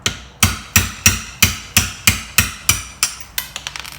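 A solid hammer striking a punch to drive the factory sight out of a VP9 pistol slide, about nine sharp, evenly spaced metallic taps, then a quick flurry of lighter taps at the end.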